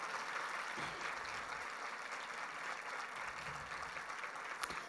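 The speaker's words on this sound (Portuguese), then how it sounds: "Aplauda o nome do Senhor pela vida da Ana." A church congregation claps during an evening service, a soft, even wash of applause from the gathered crowd that holds steady at a distance.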